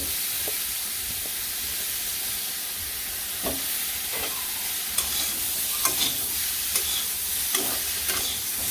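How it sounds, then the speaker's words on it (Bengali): Vegetables with potatoes stirring and frying in a pan, a steady hiss of sizzling oil under scraping utensil strokes that grow more frequent in the second half, with no talking. "সবজি তো এই যে কষে নিচ্ছি ভালো করে"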